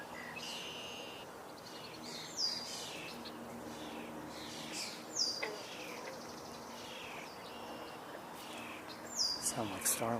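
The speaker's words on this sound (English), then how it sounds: "Sound like starlings." Starlings calling outdoors, short sharp whistles and chirps that come in brief bursts every few seconds and stand out faintly over a soft, steady background hum.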